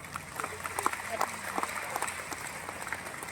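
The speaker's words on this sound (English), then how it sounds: "So let's give them a round of applause." An audience claps for team leaders on stage at a company presentation, with scattered, uneven claps at moderate distance. Crowd noise and talk run underneath.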